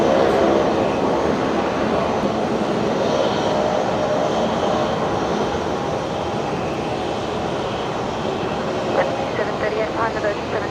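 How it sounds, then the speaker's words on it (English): A Qantas airliner touching down at Brisbane Airport, a loud continuous broadband roar of engines and rushing air held steady for about eleven seconds, close and without voices. "Now Qantas 532 just about to touch down here on the Legacy."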